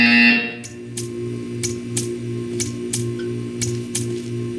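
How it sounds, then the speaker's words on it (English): A buzzer from the video game Portal 2 sounds in a steady electronic pattern, repeating about once every second at a regular rhythm over a constant low hum, following a brief higher tone at the start. "You will hear a buzzer."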